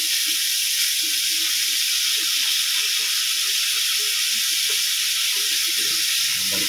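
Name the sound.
pork loin steak sizzling while frying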